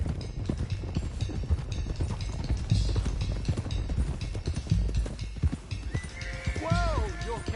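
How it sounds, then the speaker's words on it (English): Several horses clip-clop along in the video game Red Dead Redemption 2, a busy run of hoof beats with a whinny near the end and game voices talking over it. "let's get these horses to Clemens Cove quick before we run into any more trouble"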